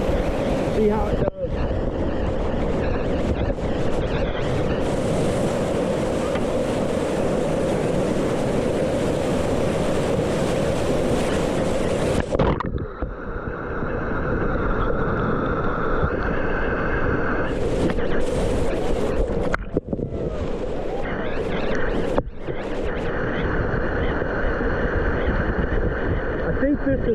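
Rushing river water and wind noise fill the scene, with occasional splashes from a kayak paddle near the microphone during river running in a Dagger Agent 6.4 kayak, and brief breaks in the roar.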